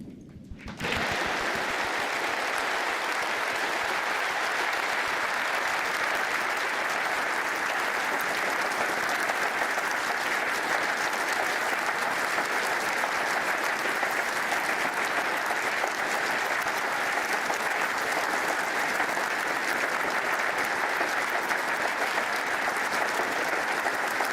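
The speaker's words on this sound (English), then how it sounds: "we're asking everyone who is willing and able to stand here in venue Cymru to remember these 2 greats with a minute of applause" A standing crowd at a snooker venue in Venue Cymru gives a sustained minute of applause as a tribute to two snooker greats, steady dense clapping filling the hall from start to finish after a brief quiet opening.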